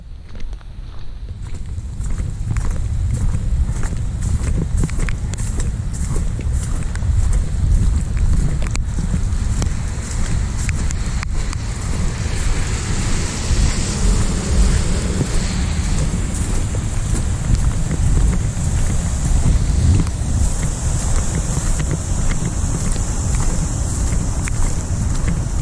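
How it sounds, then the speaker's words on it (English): Steady rain falls around someone walking outdoors in Dallas, a continuous close hiss and patter with low wind rumble and traffic-like noise running the whole time, no voices. "This is just straight up rain."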